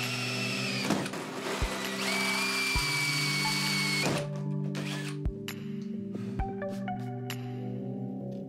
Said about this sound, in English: it was the same old, drill and drill, and drill some more